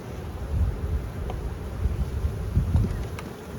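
Honey bees buzz around an opened hive box outdoors, a low wavering drone close to the microphone, mixed with wind rumble and a few faint clicks.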